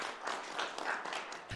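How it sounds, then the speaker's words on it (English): A small audience gives brief, soft applause, a light patter of clapping heard at a distance, ending abruptly. "I'm going to ask you all to give them a lovely round of applause"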